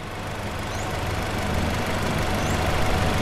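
A Toyota Kijang Innova 2.0 G from 2005 with a manual gearbox and the 1TR 2.0-litre four-cylinder VVT-i engine idles steadily with an even, dense rumble, heard close and without any talk.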